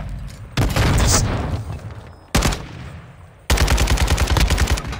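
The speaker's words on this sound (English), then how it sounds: "He switched to a shotgun and killed me, bro." Gunfire in a first-person shooter, loud blasts in three separate bursts, the last a rapid rhythmic volley, each ringing over a busy game background.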